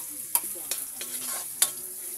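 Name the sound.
sautéing garlic and ginger in oil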